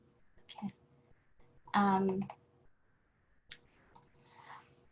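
A computer mouse clicks to advance lecture slides, giving a few sharp, dry clicks spaced across the clip between bits of a speaker's talk, close and clear.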